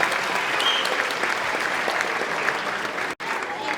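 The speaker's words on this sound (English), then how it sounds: "One more time, a nice round of applause for our junior chorus" Warm audience applause for a junior chorus at a school spring concert: a dense, steady wash of clapping, fairly loud and close, with a brief dropout near the end.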